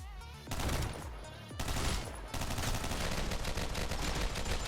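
Rapid bursts of gunfire from a weapon in the top-down shooter OTXO, played on a Steam Deck, come in loud repeated volleys with brief gaps between them.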